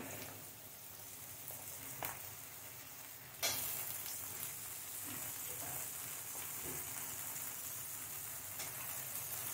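Onion, carrot and potato frying in oil in a pan, a soft steady sizzle with occasional stirring scrapes, getting louder after a sharp knock partway through.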